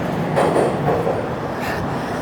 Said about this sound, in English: always the subway passes at the same time